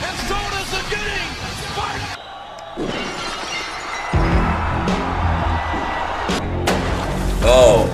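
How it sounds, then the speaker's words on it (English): Glass shatters with a sharp crash during a WWF wrestling video game match, the burst rising out of loud game audio with crowd noise and shouting voices around it. "Oh, the glass breaking."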